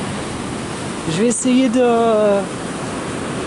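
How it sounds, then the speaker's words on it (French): Gusty outdoor wind buffets the microphone as a broadband roar throughout, steady and close, with someone speaking briefly over it in the middle. "il y a du vent"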